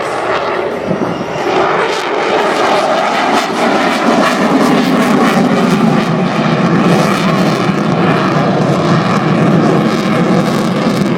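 An F-18 fighter jet passing at a Jones Beach air show produces a loud, sustained roar that swells and rumbles steadily for over ten seconds, heavy and close with no pauses.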